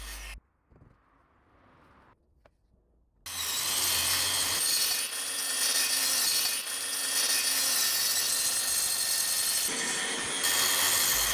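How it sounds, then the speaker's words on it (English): A track saw cuts polycarbonate roofing sheet with thin aluminium profiles: after a few quiet seconds of small handling noises, a loud, sustained whining cut starts up close and runs to the end. "I prefer a track saw to do this. Since it's polycarbonate sheeting and with thinner aluminium profiles, your usual woodworking blades will do"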